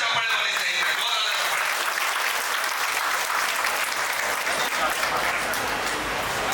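A large crowd at a job fair claps loudly and continuously, a dense sustained wave of applause filling the space with faint voices underneath.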